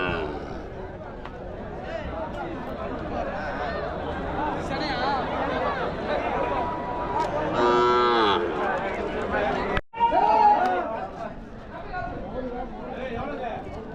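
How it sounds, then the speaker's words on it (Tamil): Native breed cattle calves low repeatedly at the Salem Chinna Thiruppathi cattle market, steady moos rising over a constant hubbub of crowd chatter and nearby voices. "எல்லாமே பார்த்தீங்கன்னா நாட்டு மாட்டு கண்ணுங்க"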